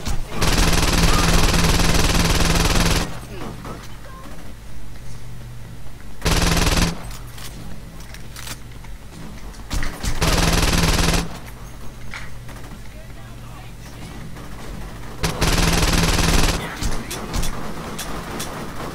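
Bursts of machine gun fire from the video game Saints Row 2 come in loud blocks of a few seconds each, separated by quieter stretches carrying a low rumble and some talk.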